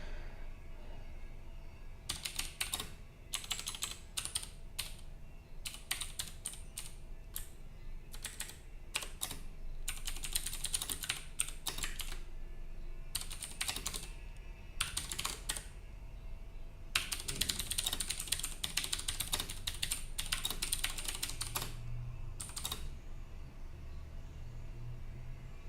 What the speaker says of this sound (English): So just type that down.